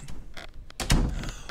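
Door opening in The Long Drive video game, a short muffled thunk and creaking swing heard close amid faint shuffling game sounds.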